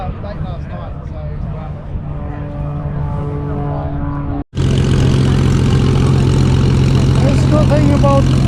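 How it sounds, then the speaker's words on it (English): At an airshow, a P-51 Mustang warbird's piston engine idles with a throbbing tone, then abruptly roars louder and rougher as it starts up fully and keeps running close by. "You get lucky and the Mustang starts up and you're gonna taxi out here."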